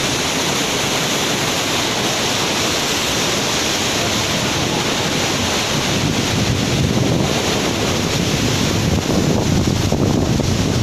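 Floodwater rushing hard through a floodgate in the days after Typhoon Ulysses, a loud, steady broadband roar with wind buffeting the microphone and no talk.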